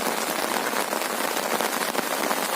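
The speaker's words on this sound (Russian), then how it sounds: "Вот 11 вечера и слышно, как пошел дождь." Steady rain patters densely on a tent roof at night, a continuous close hiss of drops with no voices.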